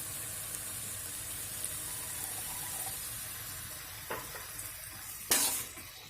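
Water poured into a nonstick pan where gourami fish is frying with bay leaves and kaffir lime leaves, giving a steady loud sizzle and hiss, then a brief splash and a harsher burst near the end, with no voices.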